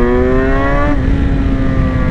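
A 2018 BMW S1000XR sport-touring motorcycle engine revving close up, loud rising tone that peaks and then drops into a rough, steady roar.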